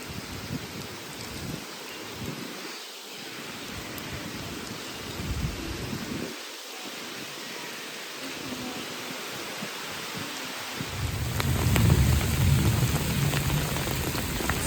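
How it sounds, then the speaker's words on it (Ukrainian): Steady rain patters and hisses on surfaces, growing heavier and louder near the end, with faint low rumbles underneath. "Скільки разів вже цей дощ починався, закінчилося, знов починався"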